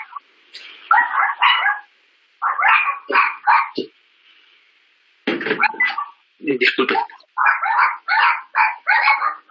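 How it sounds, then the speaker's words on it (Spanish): Small dogs yip and bark in rapid bursts, several clusters of sharp barks near the microphone during an online meeting session, with a brief spoken word in between. "allí hay unos perritos muy simpáticos, con ustedes"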